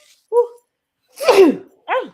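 A single sharp, breathy sneeze bursts out in the middle, framed by two brief vocal sounds just before and after it, all close and fairly loud.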